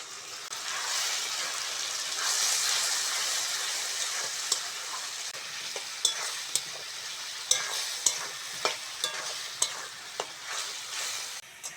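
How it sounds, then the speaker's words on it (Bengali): Masala of potato, onion and ginger-garlic paste with turmeric, chili powder and a little water sizzling steadily in a pan, with a run of sharp spoon scrapes and knocks against the vessel while it is stirred. "মশলাটা ভালো করে কষে নেব"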